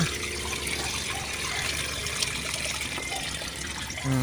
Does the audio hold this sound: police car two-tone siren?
no